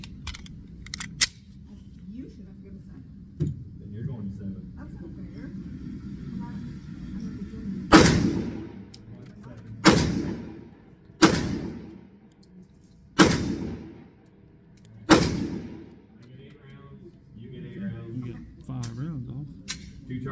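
A Smith & Wesson M&P pistol in .357 SIG fires Winchester rounds, five sharp loud shots spaced a couple of seconds apart, each ringing out briefly, with people talking quietly between them.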